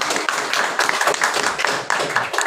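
Classroom applause from a group of students, a steady dense patter of many hands clapping close by that carries on for a couple of seconds without pause.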